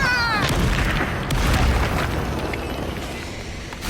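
Confringo fire spell in the video game Hogwarts Legacy going off as a heavy boom and burst, followed by a rumbling blast tail.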